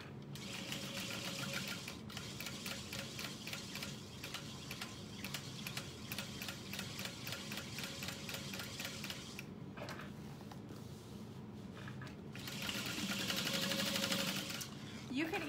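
A domestic sewing machine stitches a Harriet bag by Swoon Sewing Patterns in steady bursts of rapid needle ticking, pausing briefly near the ten-second mark before a louder run resumes; a voice talks over the stitching.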